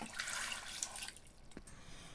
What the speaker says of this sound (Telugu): ఇందులో 1 గ్లాసు వాటర్ కూడా వేసుకోవాలి.